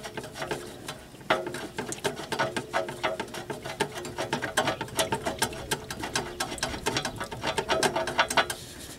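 A hand ratchet with a colored Harbor Freight socket clicks rapidly on a transmission bolt of a GMC Savana, steady close clicking in quick runs throughout.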